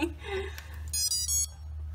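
A voice speaks briefly, then a shrill electronic toy emits a rapid series of high beeps and chirps, close and loud.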